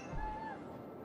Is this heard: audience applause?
no